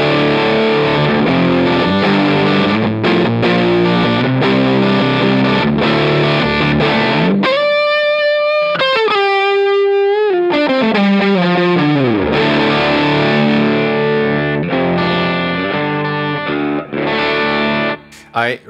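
Electric guitar through a Catalinbread Dirty Little Secret Deluxe pedal with boost into a Marshall-style rig: a steady stream of loud, distorted chords, then a pause with a bent, sustained note around the middle before the dense strumming resumes.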